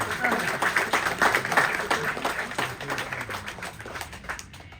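An outdoor crowd at a cattle dog herding show claps in dense, continuous applause, fairly close and loud at first, then gradually thinning and fading out.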